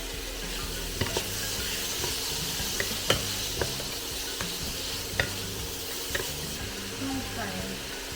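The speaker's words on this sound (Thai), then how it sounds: "เจียวแล้วใส่หมูลงไปเราจะเคี่ยวให้น้ำมันหมูออกมาด้วย" Pork frying in oil in a pan gives a continuous sizzle, with repeated clinking stirs of a utensil against the pan at uneven intervals, close and moderately loud.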